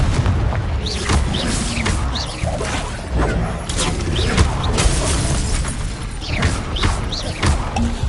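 Fire-blast spell in Hogwarts Legacy on PS5, loud booming crashes and whooshing bursts packed densely through a chaotic battle, one impact after another with no pause.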